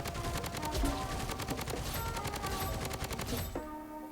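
Automatic gunfire in the shooter video game BloodStrike rattles out as a rapid, evenly paced burst for about three and a half seconds, then stops abruptly.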